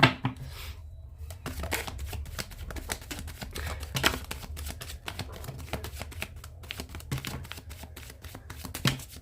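Tarot cards riffle and slide against each other in quick, dense flutters, close and soft, continuing for several seconds with brief pauses.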